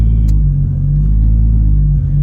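A Lexus SC300 with a 2JZ engine idles with a deep, steady low rumble, loud and close, with no talking.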